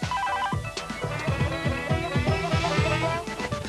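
A telephone rings in repeated bursts of warbling electronic tone, loud and close, with no talking.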